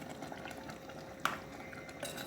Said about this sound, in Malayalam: തേങ്ങാപ്പാൽ കൂടി ചേർത്തിട്ട് നന്നായിട്ടൊന്ന് ഇളക്കി യോജിപ്പിക്കാം